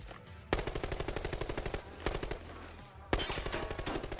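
Rapid automatic gunfire in a video game, three sustained bursts of evenly spaced shots with a short gap between them, loud and punchy.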